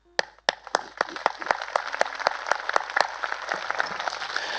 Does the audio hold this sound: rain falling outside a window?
no